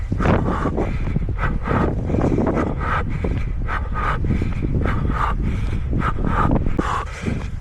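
Strong wind roars steadily across the microphone on an outdoor mountain run before rain, a dense continuous rumble with gusting pulses and no voices.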